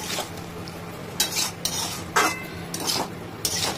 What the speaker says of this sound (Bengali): এই যে হালকা হাতে করে দিলাম মিক্স